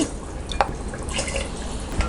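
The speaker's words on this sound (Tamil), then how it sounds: "நான் வந்து 2 டம்ளர் அளவுக்கு ஊற்றுறேன்." Water poured from a tumbler into a pot of mutton biryani base with oil rising to the top, a faint splashing and dripping trickle over steady low background noise.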